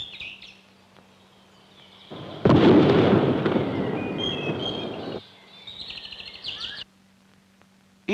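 A lightning strike from a 16mm research film sets off a loud crash of thunder that swells and rumbles for about three seconds, with faint bird chirps and a steady hum before and after.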